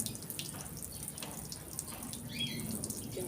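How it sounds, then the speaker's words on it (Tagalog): Faint water splashing and trickling, like liquid pouring out, under a steady outdoor hiss. "Yung tubig ko ay natatapon na pala."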